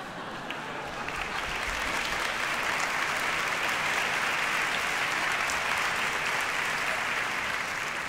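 Audience applause at a Salesian Missions charity Christmas concert in 2023, a dense, sustained clapping from a large crowd that builds and holds steadily for several seconds.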